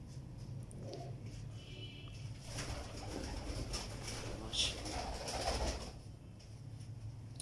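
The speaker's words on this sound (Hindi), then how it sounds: "देखिए दोस्तों कैसे खूबसूरत कबूतर है माशाल्लाह।" Soft, low cooing of teddy pigeons repeats under a steady background hum, fairly faint, with a brief brighter call midway.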